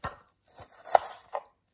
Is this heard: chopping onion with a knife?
yes